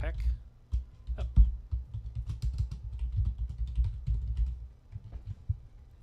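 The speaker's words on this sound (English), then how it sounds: "If I could ever type." Someone types on a computer keyboard in quick, uneven bursts of close, soft key clicks, with brief pauses and a voice speaking over parts of it.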